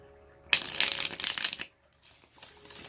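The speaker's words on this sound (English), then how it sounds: "so let's shuffle" Tarot cards riffled and shuffled by hand in two bursts, crisp papery flutters that pause briefly before resuming, close and fairly loud with no talking.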